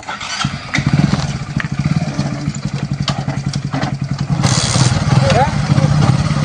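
A motorcycle engine runs nearby with a rhythmic, pulsing chug that holds steady and grows slightly fuller toward the end, while people talk over it.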